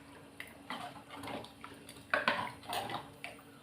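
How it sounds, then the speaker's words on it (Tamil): A spoon stirring tamarind into roasted brinjal curry in a metal pot, quiet clinks and scrapes in short bursts, close and faint with no talk. "இப்போ நான் புளியை ஊற்ற போகிறேன். இதை மிக்ஸ் பண்ணி எடுத்துக்கிறேன்."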